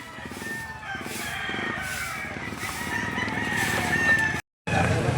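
Roosters crow repeatedly at a busy Lipa livestock auction market, with several long calls overlapping amid crowd noise and faint nearby clucking, broken by a brief dropout near the end.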